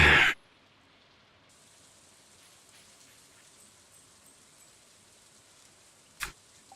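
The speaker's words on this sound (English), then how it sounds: "And of course it's raining, which means no truffle generation today." Soft, steady rain patters lightly in the background for several seconds, with a brief louder thump near the start and another near the end.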